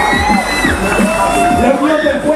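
A crowd cheers and whoops after a fire circus show at an outdoor cultural festival, loud and close, with shouting voices and overlapping cries rising and falling over a couple of seconds.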